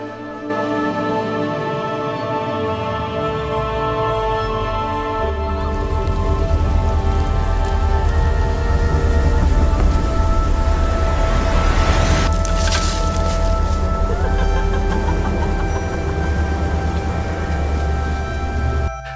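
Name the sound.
heavy rain in a horror film scene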